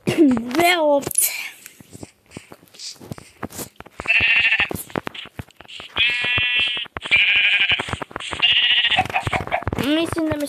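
Sheep in a survival video game bleat repeatedly in loud, wavering calls that come in several bursts of about a second each, with someone talking in between.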